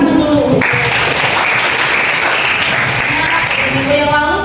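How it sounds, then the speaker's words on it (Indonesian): A classroom of students breaks into loud, sustained applause after a short moment of voices, dense clapping holding steady before tapering slightly at the end. "Iya, terima kasih, tepuk tangan dulu."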